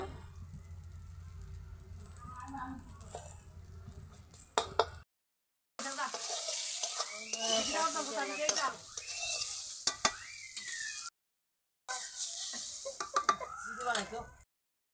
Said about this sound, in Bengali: ধরো এখন ডিমটা জ্বালতেছি।